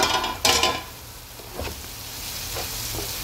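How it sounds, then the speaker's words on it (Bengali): A pan of bottle gourd seed mash is uncovered with a brief lid clatter, then stirred with scraping, clinking strokes over a soft background hiss; close and moderately loud at first, quieter afterward. "ঢাকনা তুলে মাঝখানে একটু নাড়া দিয়ে নেব।"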